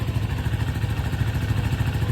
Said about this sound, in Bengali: এটা হচ্ছে বাইকের ইঞ্জিন সাউন্ড